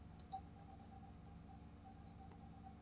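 A pair of sharp computer mouse clicks near the start, then a steady low hum of a room and computer with no further clicks.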